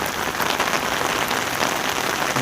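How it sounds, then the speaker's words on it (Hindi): Rain falls steadily and heavily on a residential London street during a walk, a dense close hiss with scattered drop patter and no talk. "मुसलसल जो है बारिशें हो रही हैं"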